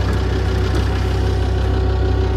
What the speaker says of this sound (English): Please excuse the fact the engine's now running